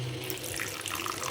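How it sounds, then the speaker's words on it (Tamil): Water pours in a short, steady splashing stream into chicken gravy in a cooking pot, heard close and alone. "கொஞ்சமாக லைட்டாக தண்ணி ஊற்றிடலாம்"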